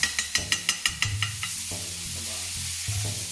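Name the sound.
butter sizzling in steak pan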